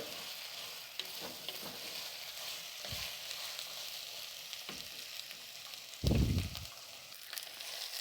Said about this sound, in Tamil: நல்லா கத்திரிக்காயை இந்த மாதிரி எண்ணெயிலேயே நல்லா வதக்கணும்